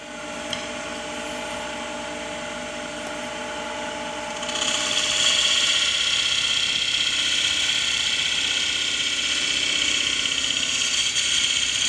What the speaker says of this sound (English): Now we're going to go with a nice fine 3/8 inch bowl gouge to finish that soft curve up.